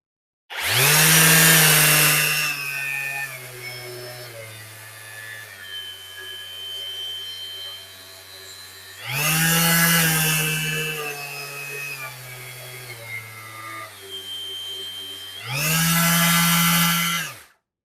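A cordless orbital sander bought from AliExpress runs in three loud bursts, each starting with a harsh whirring surge and then settling into a steadier, quieter hum before the next burst. No one talks.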